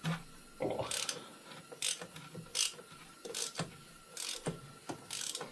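A 3/8 ratchet clicks in quick pawl bursts while turning the oil filter housing cap on a 2009 BMW 328 xDrive, six or seven short rhythmic ratcheting runs, close and crisp in a quiet garage.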